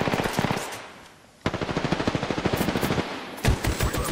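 Rapid automatic gunfire in a video game rattles in close, loud bursts, pausing briefly and then resuming in a long run of evenly spaced shots, with no talking over it.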